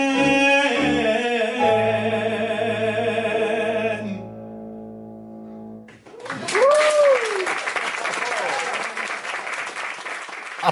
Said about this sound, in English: Applause indeed.